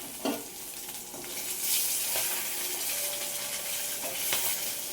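Fish sizzles and spits in a hot pan while it is turned over, with a dense frying hiss and a few clinks and scrapes of the utensil.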